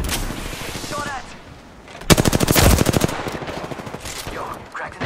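Rapid automatic gunfire in the video game Apex Legends, with a loud burst of fast, evenly spaced shots in the middle, quieter shots around it, and players talking over the fighting.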